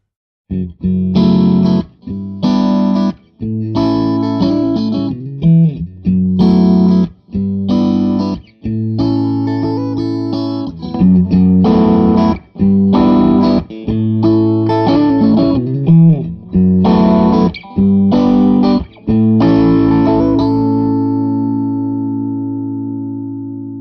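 An electric guitar played through a 65 Amps amp (Stone Pony or Lil' Elvis) with the bump boost on, in chopped, repeated chords and riffs, loud and saturated, ending on a sustained ringing chord.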